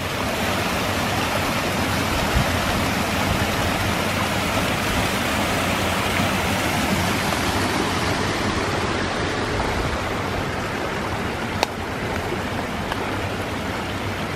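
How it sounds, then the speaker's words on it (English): Rainwater rushes steadily downhill along a park hiking trail after heavy rain, a constant broadband wash close by that holds the same level throughout, with one brief click near the end. "More water running down the hill."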